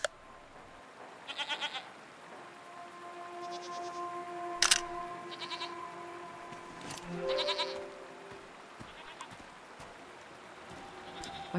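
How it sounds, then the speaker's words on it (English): Goats bleat in the video game Season: A Letter to the Future, several short wavering calls at moderate distance over a soft ambient background with occasional clicks. "What are these strange goat-like creatures?"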